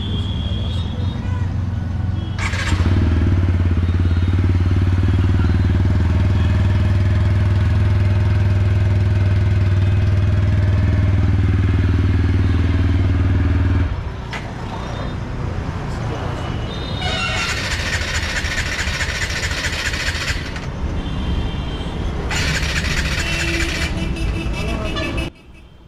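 A TVS Apache RTR 160 motorcycle engine, out of fuel, cranks over and over without catching, a steady mechanical churn, then stops; loud hissing bursts follow near the end.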